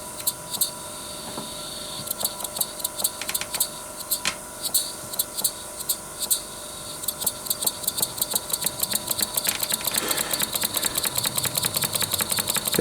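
A small home-built model engine with a heavy flywheel runs steadily, its rapid mechanical ticking and clatter building up and growing denser and louder toward the end.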